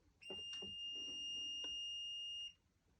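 A fencing weapon pressed down under a test weight sets off the scoring box: one steady, loud electronic beep of about two seconds, preceded by a few faint clicks of handling.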